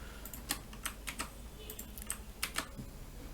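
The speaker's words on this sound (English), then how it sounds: "now I'm gonna type that" Fingers type on a computer keyboard in a quiet room, with quick irregular clicks and clacks arriving in small clusters at close range, and no talking.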